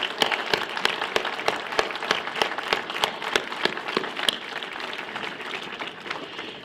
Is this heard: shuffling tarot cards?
no